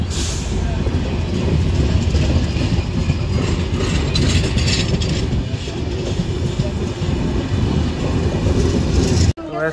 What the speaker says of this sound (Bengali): এই তো এই লাইনেই প্রবেশ করবে ট্রেনটি